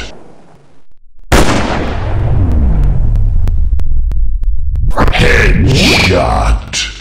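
Sniper rifle fire in an army shooting video game: a sudden loud blast with a booming, rumbling tail, then sharp repeated clicks and a second burst of heavy noise, all close and very loud.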